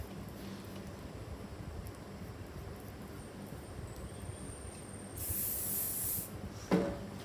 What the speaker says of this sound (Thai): เราควรจะลงด้วยสเปรย์ฝุ่นก่อนเพราะว่าสเปรย์ฝุ่นนี้ยังสามารถที่จะแก้ไขทรงได้